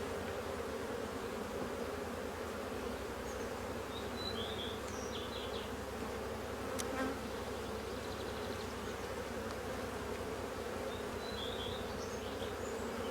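Honey bees buzz steadily around an open hive during an amateur beekeeper's inspection, a dense, continuous drone with individual insects flying close past now and then, with no voices present.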